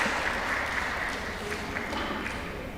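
At a 2016 IPC Powerlifting World Cup event in Dubai, an arena crowd applauds a men's -72 kg lift with sustained, even clapping at moderate distance, steady throughout with faint voices mixed in.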